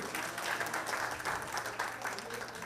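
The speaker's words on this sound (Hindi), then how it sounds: "जोरदार तालियों से उनका हौसला बढ़ाते रहिए।" An audience at an annual day celebration applauds, a dense, faint wash of clapping heard from a distance, with a little crowd noise mixed in.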